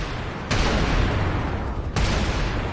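Dense, roaring bursts of game explosions and gunfire, with a sharp blast at the start and another near the end over constant rumbling.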